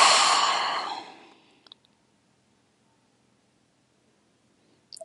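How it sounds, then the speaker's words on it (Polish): A single deep exhale during a relaxation cool-down after bodywork strength training, breathy and close, fading out over about a second and a half, followed by near silence and a couple of faint clicks. "Głęboki oddech."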